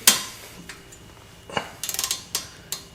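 A wrench turns a suspension bolt on a 5.0 Mountaineer, making several sharp metallic clicks and a quick run of ratcheting ticks.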